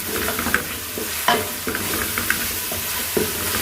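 Whole garam masala of cumin, cloves, black cardamom and cinnamon sizzles and crackles in a hot pan, a steady close frying hiss with soft scrapes of stirring throughout.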